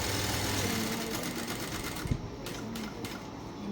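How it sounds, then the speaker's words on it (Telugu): A sewing machine stitches a straight seam on a plain blouse, a quiet, even mechanical whir that runs steadily and then breaks into a few short bursts near the end. "కింద నుంచి పై వరకు స్ట్రైట్గా ఒక కుట్టు అనేది కుట్టుకోవాలి."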